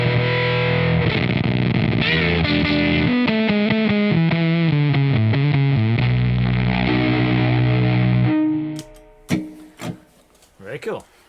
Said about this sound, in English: that's distortion sound.